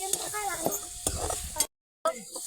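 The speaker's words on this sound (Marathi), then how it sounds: "आता डबल मिरची त्याच्यामध्ये परतून घ्यायचं" Chillies sautéed in a pan with cooked pumpkin for kadhi, stirred with a steady sizzle and spoon scrapes, then a brief silent gap before the stirring resumes.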